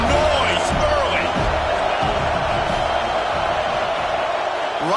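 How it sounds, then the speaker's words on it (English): A dense football stadium crowd roars steadily through a USC versus Wake Forest game, a loud continuous wash of voices with scattered shouts and whoops, with talk faintly mixed in. "This crowd bringing the energy and noise early."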